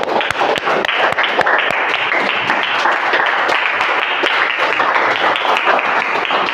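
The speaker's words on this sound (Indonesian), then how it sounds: "Tepuk tangan dulu untuk kita semua" A classroom of automotive vocational students applauds, with dense, loud clapping running steadily throughout and sharp individual claps standing out in the mix.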